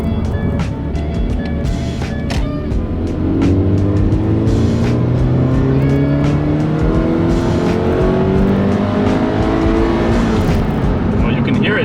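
A Toyota 86 sports car fitted with a TRD air intake climbs through the revs under hard acceleration on flat ground, droning and rising in pitch repeatedly, heard from inside the cabin with a voice talking over it.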